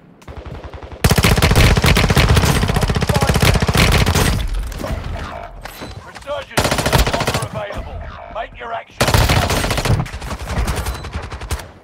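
Sustained automatic gunfire from Call of Duty Warzone Mobile: loud, rapid machine-gun bursts in several long volleys separated by brief pauses, with no talk over it.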